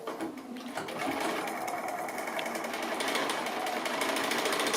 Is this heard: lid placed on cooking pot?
no